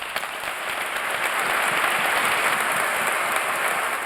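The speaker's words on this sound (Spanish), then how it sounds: "Discurso desde el corazón que han arropado los presentes con un fuerte aplauso." Strong, steady applause from a crowd of mourners after a heartfelt memorial speech for José Luis Mendoza in Murcia. The clapping is dense and even, keeps going for the whole stretch, and no voices are heard.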